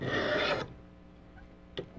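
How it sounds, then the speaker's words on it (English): A knife edge drawn forward across a ViperSharp sharpener makes one close, gritty rasping stroke of about half a second, followed by quiet and a faint tap. "I'm going to take just a forward motion this way on the blade, and listen to the sound of the edge here"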